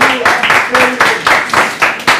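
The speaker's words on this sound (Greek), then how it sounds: "χειροκρότημα!" An audience clapping at a television show, rhythmic loud applause close up, with a voice speaking at the same time.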